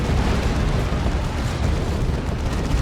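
Rocket run strike in the Dawn of War 2 strategy game, a dense continuous rumbling explosion barrage, loud and close throughout the short burst.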